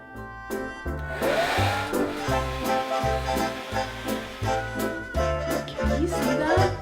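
Hair dryer blowing continuously on hair coloured with colour-changing dye, close and loud, its whine wavering as it moves.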